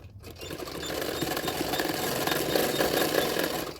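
Sewing machine running steadily while stitching a katori blouse with a half-inch margin, a continuous close mechanical whir with rapid needle rattle throughout, no voices.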